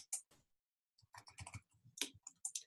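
Computer keyboard keys being typed on at close range, in a few quick bursts of clicks separated by a short pause, with no talking over them.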